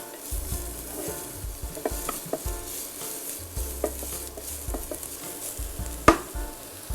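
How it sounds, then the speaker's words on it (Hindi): Onions and mixed vegetables sautéing in a pan, with a soft steady sizzle broken by frequent scraping stirs and light clinks of a utensil, close and fairly quiet, with no talk. "इसे थोड़ा सा हम सौटे करेंगे।"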